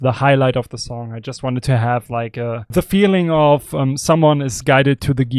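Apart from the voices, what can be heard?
None of the usual background noises is heard.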